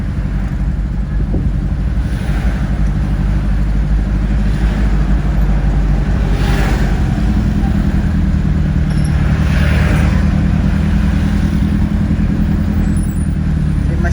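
Steady road traffic in Buhangin proper, a continuous low rumble of cars, buses and trucks passing close by, with engine drone and the occasional hiss of an air brake throughout.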